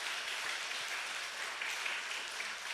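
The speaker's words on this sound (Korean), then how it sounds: "네, 박수 한번 쳐주세요." A church congregation applauds during a Sunday morning worship service, a steady dense wash of many hands clapping together, loud and continuous without pause.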